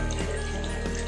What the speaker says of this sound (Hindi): ये फेस मास्क और मेडिसिन वाला हम टैप वाटर में धो रहे हैं